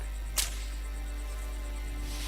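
A single sharp whip crack in the Western game Call of Juarez, one loud snap early on over a steady background hum.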